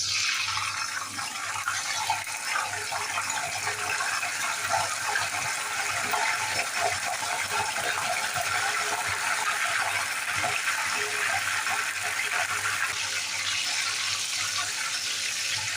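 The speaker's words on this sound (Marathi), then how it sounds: "आपण जे मिठाचं पाणी बनवलंय ते थोडं थोडं टाकायचं" Steady, dense sizzling and bubbling of hot coconut oil frying banana chips, continuous and fairly loud throughout, with a hiss as salt water is poured into the pan.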